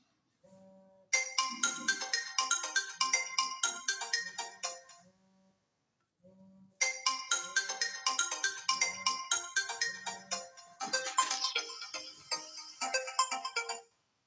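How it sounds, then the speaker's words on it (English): A phone ringtone triggered by an Oraimo Watch 4 Lite smartwatch's Find Phone feature plays a repeating electronic melody, stopping briefly after about five seconds and then starting again, loud and close with no talking. "There's also the Find Watch or Find Phone feature, and I tested it and it works."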